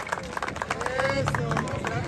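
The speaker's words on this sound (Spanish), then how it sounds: "¡Aplausos!" Crowd applause at the opening of a baseball tournament season, clapping spread through the stretch amid lively crowd babble and cheering voices, fairly loud and close.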